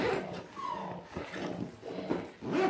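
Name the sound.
dog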